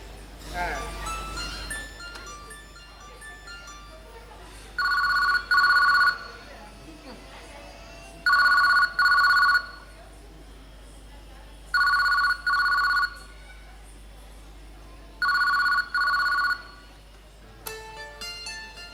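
An old-style telephone bell rings in a Telugu stage play, giving four paired electronic trills spaced a few seconds apart, with stage voices heard around them.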